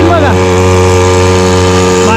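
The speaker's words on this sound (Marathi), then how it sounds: "फक्त छोटीशी बोट पण छोटीशी बोटची मशीन" A small fishing boat engine runs steadily with a constant droning hum and a faint rising whine at the start, close and fairly loud throughout.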